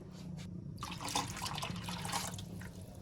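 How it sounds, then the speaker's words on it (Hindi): Water added to a cooking pan holding gram flour and yogurt for kadhi, a soft, quiet pour and splash heard close, with a brief gap near the start, no voices. "इसमें मैं थोड़ा सा पानी और शामिल कर देती हूँ।"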